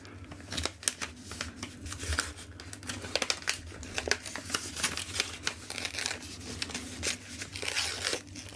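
Paper wrapping on a book parcel being crinkled and torn open close up, a busy run of crackles, rips and rustles with sharp peaks scattered throughout and no talking.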